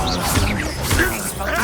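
Confringo fire spell cast in Hogwarts Legacy, a loud, dense burst of crackling, smashing impact noise and whooshing magic that sustains across the moment, with a couple of sharper hits near the start and middle.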